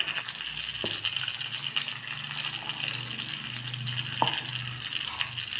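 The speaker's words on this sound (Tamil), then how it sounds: "தண்ணி கொஞ்சம் சேர்த்துக்கிறேன்." Water goes into a simmering pond-fish curry in a pot, giving a steady bubbling sizzle with a couple of sharp clinks of a utensil against the vessel.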